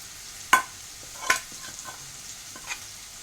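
A quiet pan with a low sizzle of tempering frying, broken by a few sharp clinks and scrapes of a utensil stirring at irregular intervals.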